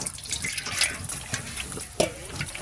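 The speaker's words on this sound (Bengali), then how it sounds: "গামলাতে একটু জল দেব" Water runs into a metal or plastic basin during outdoor cooking of hilsa fish with brinjal, a steady close splashing trickle with a brief louder gush near the end.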